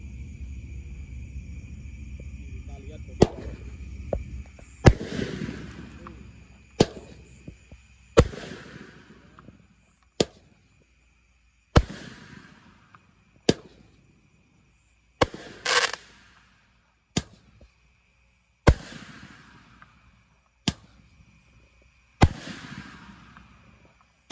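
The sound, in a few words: 8-shot roman candle fireworks firing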